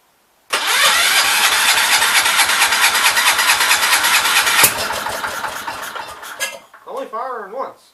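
A Kohler K321 engine cranks and rattles loudly and continuously, then fires once with a sharp pop before the cranking dies away, followed by brief quieter mechanical clatter.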